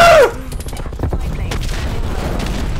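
An M60 machine gun rattles off sustained fire in a Black Ops Cold War 12v12 multiplayer match, a fast rhythm of sharp reports with booms mixed in, after a brief voice at the start.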